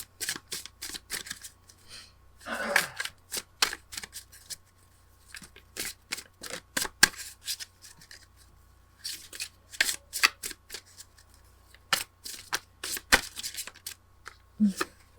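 Tarot cards being shuffled by hand in quick, crisp riffling bursts, repeating close and clear with short pauses between and no talking.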